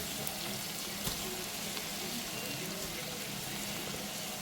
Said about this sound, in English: saute those onions and peppers, I add my cabbage